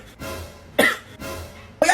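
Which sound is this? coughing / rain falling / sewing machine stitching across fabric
coughing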